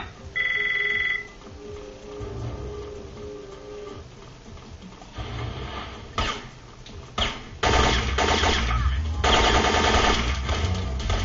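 Gunfire in Syphon Filter gives cover fire: loud, choppy bursts of rapid shots come in the second half, after a short electronic beep and quieter game sounds, with a voice talking at times.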